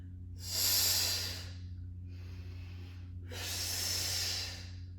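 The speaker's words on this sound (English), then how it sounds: "As you exhale, you're going to force out all of the air in your lungs and scoop that belly button." Two long, forceful breaths out during a Pilates core exercise, close to the microphone, separated by a quieter breath in, over a low steady hum.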